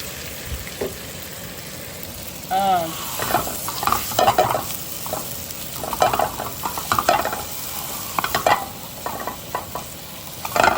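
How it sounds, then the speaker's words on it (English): Sausage and black-peppered bacon browning in a pan, giving a steady close sizzle and fry broken by repeated scraping and stirring clatter from a utensil, with no talking. "Here we are, just doing browning our sausage and our bacon."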